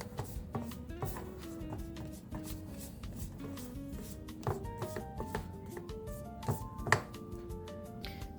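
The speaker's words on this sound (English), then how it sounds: "I just flatten it out with my spatula and it smoothed it so nicely." A spatula flattens and smooths milk powder fudge with nuts, making quiet, repeated soft taps and short scrapes against the pan in an irregular rhythm.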